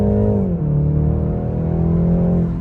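A BMW 3 Series engine and exhaust in sport mode drone loudly and steadily from close by, holding a deep rasping tone that dips briefly as revs shift, then carries on evenly.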